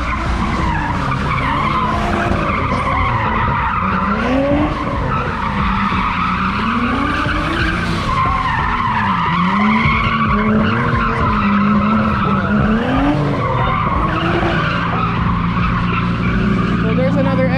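Nissan S14 drifting at a car meet alongside a Nissan 370Z Nismo, tires squealing in long rising and falling wails over steady engine roar, loud and close throughout, with people talking underneath.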